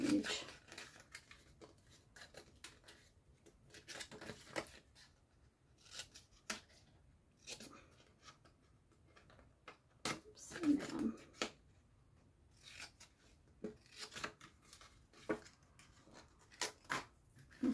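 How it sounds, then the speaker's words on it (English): Scissors cut designer paper for a gift box in short, crisp snips and rustles scattered irregularly through the stretch, fairly close but quiet, with pauses between cuts and some soft speech. "We're going to cut and wedge, cut"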